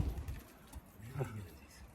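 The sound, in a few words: pigeons cooing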